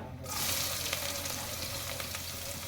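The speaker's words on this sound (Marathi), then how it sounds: "आता टाकते त्याच्यामध्ये कांदा" Chopped onions drop into hot oil with curry leaves in a pan and burst into a loud, close, continuous sizzle of frying that holds steady throughout, with no talking.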